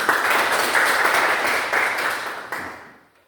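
Classroom applause, a steady patter of many hands clapping that holds for about two and a half seconds, then thins and fades out to silence.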